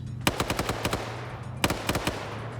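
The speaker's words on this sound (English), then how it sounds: "Got the MTLB firing at Bob here." Two bursts of rapid machine-gun fire from an MT-LB armoured vehicle in a Soviet–Afghan War combat video game, each a quick string of sharp shots over a low engine hum, with no talking.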